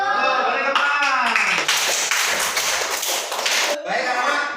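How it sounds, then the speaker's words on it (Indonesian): A class of children in an Indonesian primary school lesson claps hands in a quick, lively burst lasting a few seconds, close by, with children's voices chanting alongside. "Beri tepuk tangan."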